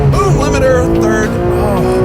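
A loud Porsche 911R engine revs steadily up and down through the gears, hitting the rev limiter, close and continuous, with a voice speaking faintly beneath it.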